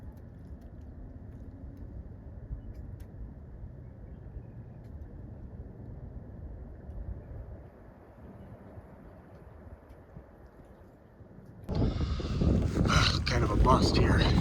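Wind buffets the microphone in a low, steady rumble outdoors during a Wisconsin turkey hunt, then a sudden louder gust roars in near the end.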